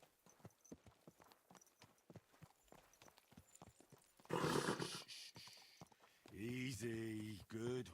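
Video game horse hooves clip-clop in a steady rhythm, with a horse whinnying and someone speaking briefly over the footsteps.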